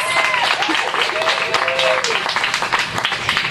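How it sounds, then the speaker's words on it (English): Audience applause for A Bloom at a Hawaiian-style luau, a dense, loud wash of many hands clapping with crowd murmur and a voice briefly over it. "Let's give them a round of applause."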